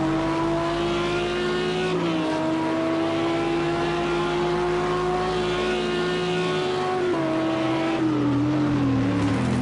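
GT3 race cars compete in the Project CARS 2 racing game, with a loud, steady engine drone that shifts pitch on gear changes and braking. The sound is continuous and close, and other cars can be heard around it.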